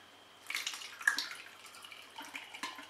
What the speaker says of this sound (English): our aim is to filter out now the water that's